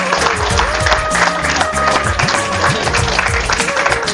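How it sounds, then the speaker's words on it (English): Audience applause for a student president being announced at an Energy Conservation Day event, dense steady clapping from a crowd filling the room and continuing throughout. "Give her a big round of applause."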